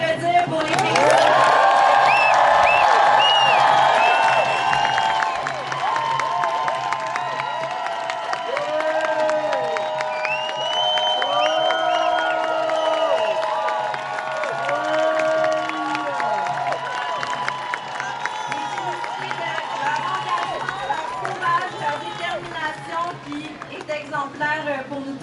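Crowd at a pro-Palestine protest in Montreal clapping and cheering, a loud burst of applause at the start that carries on under a person speaking over amplified sound.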